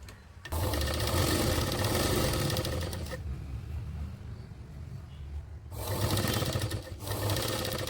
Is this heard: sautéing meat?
no